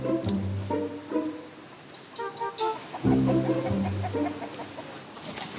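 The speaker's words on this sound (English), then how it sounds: "Most of the chickens seem to be within the coop, but many are roaming up and down the hillside" Chickens cluck and squawk in short bursts around a hillside coop in the Chinese countryside, several calls overlapping at moderate distance with no talk.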